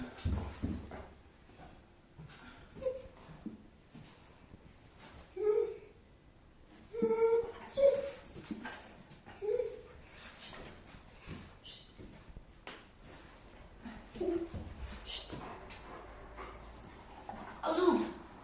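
A dog indoors in a house gives scattered whimpers and short barks, several bursts spread through a quiet room with a faint hum beneath.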